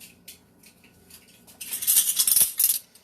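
Metal measuring spoons clink and rattle while being handled in a home kitchen during cinnamon apple cake baking, a few light taps first, then a denser burst of bright jingling that settles.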